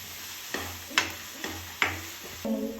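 Egg burji mixture being sautéed in a pan, with four distinct spatula scrapes and knocks against the pan over a faint sizzle, then a brief clatter at the end.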